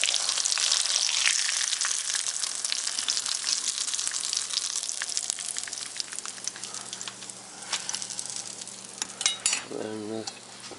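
Polish kotlety fry in a flat-bottom wok with a loud, steady close sizzle throughout, easing slightly near the end, where a brief scrape and a short vocal sound break in.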